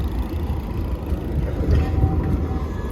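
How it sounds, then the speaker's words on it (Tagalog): Trams rolling along a city street in Bremen, a low steady rumble of wheels and motors with a brief faint tonal whine and street ambience, no talk. "Ang daming mga tren sa kalsada"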